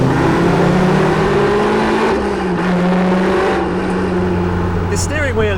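A 2019 Caterham 310R sports car engine revs loudly and steadily, the pitch rising and falling, with a voice talking over the engine throughout.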